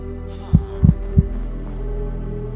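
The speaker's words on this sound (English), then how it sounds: "there's definitely a fucking heartbeat" A heartbeat in a Minecraft horror mod thumps three times over a low droning ambience, two quick beats then a single one, deep and muffled before fading into the hum.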